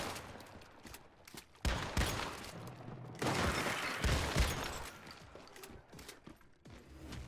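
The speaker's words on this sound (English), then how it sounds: "I'm actually curious to see how much damage my double-barreled shotgun is going to be doing." A double-barreled shotgun fires in the video game Once Human during a solo run of a silo mission, loud booming blasts coming in bursts with mechanical clatter between them and no speech.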